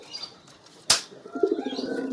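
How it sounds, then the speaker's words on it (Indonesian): A pet pigeon gives a sharp wing flap, followed by soft low cooing up close in a quiet room. "ini merpatinya nih teman-teman"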